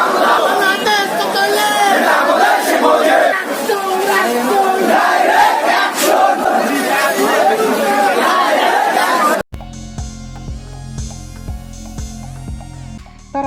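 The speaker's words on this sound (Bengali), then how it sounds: "তারা জয় বাংলা স্লোগান দিয়ে ইউনূস হটাও দেশ বাঁচাও এমন স্লোগানে মুখরিত করে তোলে রাজপথ" A large street protest march of Awami League and Chhatra League supporters in Bangladesh, the crowd loudly chanting Joy Bangla slogans, a dense continuous roar of voices that cuts abruptly to music near the end.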